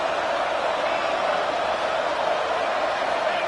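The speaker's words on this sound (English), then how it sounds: "Listen to the crowd energy here in the early going." A stadium crowd at a football game roars in a steady, dense wash of cheering and noise, sustained without breaks throughout.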